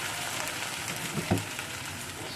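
Poppy seed and cashew paste frying in a pan for doi katla: a steady, soft sizzle throughout with a faint stirring scrape near the middle, no talking.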